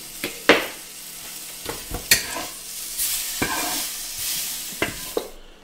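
Shallots frying and sizzling in a pan, with a steady hiss of frying under repeated scraping and clinking as they are stirred, close and fairly loud, no voices.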